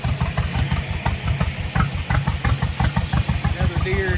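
Old John Deere tractor engine running at an outdoor heritage farm show, a steady low rhythmic chug with regular firing pulses at moderate distance, with a voice talking over it.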